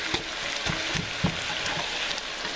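Frozen cut okra being stirred in a hot frying pan for bhindi masala, giving a steady close sizzle with several soft scraping knocks of the spoon against the pan.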